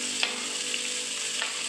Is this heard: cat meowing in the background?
no